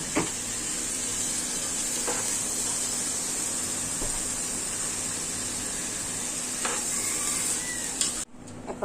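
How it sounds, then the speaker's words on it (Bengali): Ginger, garlic, green chillies, garam masala and salt hit fried rice in a hot pan, giving a continuous close sizzle and hiss with a few soft stirring clinks, then a sudden cut near the end. "আমার চালটি ভাজা হয়ে গেছে, এখন আমি মশলা দিয়ে দিব"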